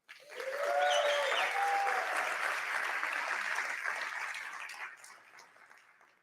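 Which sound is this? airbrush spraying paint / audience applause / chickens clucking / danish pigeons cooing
audience applause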